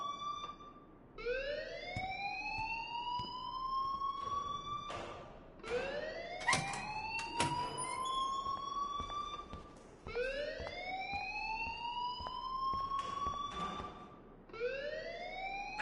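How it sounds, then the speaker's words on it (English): A repeating school alarm siren in the Life is Strange video game, rising upward in pitch over and over in long wails, loud and steady with no talk. "please turn off that alarm since that's your job."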